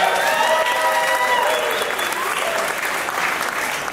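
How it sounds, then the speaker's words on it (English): A conference crowd at a San Diego startup pitch slam claps for an executive director, with dense, steady applause that stays loud and full throughout, a little voice-like tone mixed in. "we got claps for Kirsten"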